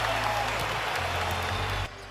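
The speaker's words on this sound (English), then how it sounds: "their outing got more stressful, thanks to a raucous New York crowd" Loud, dense roar of a raucous New York crowd at a Knicks–Celtics basketball game in Madison Square Garden, a continuous wash of cheering that drops off abruptly near the end.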